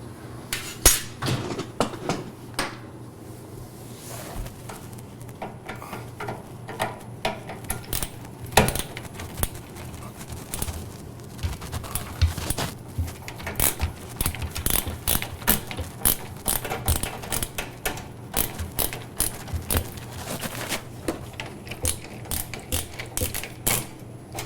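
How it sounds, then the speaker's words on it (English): Screws being removed from underneath a Wolf range cooktop: a long run of close metallic clicks, ratcheting and small clanks, irregular but nearly continuous. "Let's just try to take out the couple of screws underneath and see if this comes down this way."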